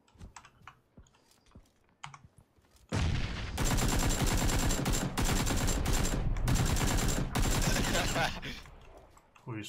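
Rapid bursts of gunfire from PUBG (PlayerUnknown's Battlegrounds) crackle loudly and almost continuously for several seconds after a quieter opening, with brief gaps between volleys.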